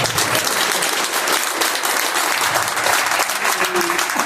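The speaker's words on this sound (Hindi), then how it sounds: "अब ताली बजा रहे हो तो थोड़ा जोर से बजा दो" Loud, dense clapping from a rally crowd at an Aam Aadmi Party booth gathering in Babarpur, a steady wash of applause sustained throughout without pause.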